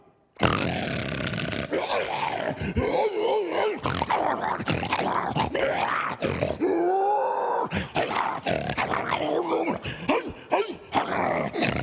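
A voice growls, grunts and barks in a long, close, theatrical imitation of a dog, rising and falling with rough snarling tones.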